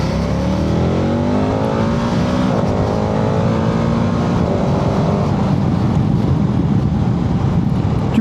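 KTM 1390 Adventure S Evo motorcycle with automatic gearbox pulling away under throttle, engine note climbing in rising sweeps as it gathers speed, loud and close over steady wind roar.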